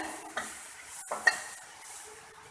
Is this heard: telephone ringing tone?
no